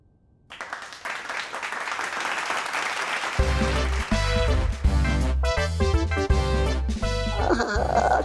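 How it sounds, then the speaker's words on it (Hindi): A crowd on a children's fantasy TV show bursts into applause after a short silence, dense clapping that keeps going as loud, bouncy music with a heavy beat comes in about halfway through. "तालियों की आवाज है लगती कितनी मधुर"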